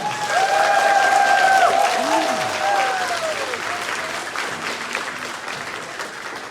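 An audience at an Indigenous arts and culture performance breaks into applause for the performers, a full crowd clapping with voices cheering and calling over it, gradually tapering off.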